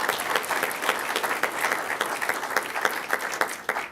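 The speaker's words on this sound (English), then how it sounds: "We should recognize that with a big round of applause." A crowd at a city council meeting in Encinitas applauds a volunteer, a dense burst of clapping that holds steady for several seconds and starts to thin at the end.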